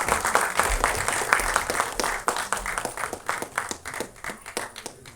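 Audience clapping at a song screening festival, a lively burst of many hands with distinct individual claps that fade and scatter toward the end.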